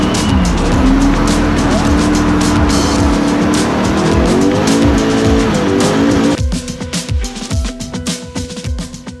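Drift car making a run at a French championship event, engine roaring loud and close with tires squealing continuously, then the engine note drops and the car idles and revs more unevenly in the final seconds.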